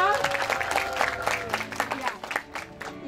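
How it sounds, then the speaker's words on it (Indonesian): A crowd at a campus program launch in a library garden claps, with scattered cheering, while voices carry over the clapping throughout. "Tepuk tangan dulu dong."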